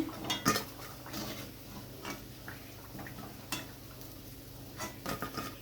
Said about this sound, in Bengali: এবার আমি এগুলো তুলে নিচ্ছি।